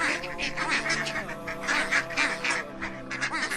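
Many ducks and geese honk and quack loudly together, a dense, continuous chorus of overlapping calls that stays close and busy throughout.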